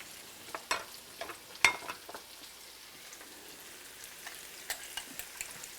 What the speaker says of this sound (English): now I got to put the eggs, okay?